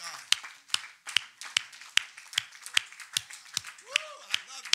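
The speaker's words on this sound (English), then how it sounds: "Somebody clap your hands unto the Lord." Church congregation clapping hands in praise during a worship service, a steady rhythm of sharp claps about twice per second, with voices calling out softly in the background.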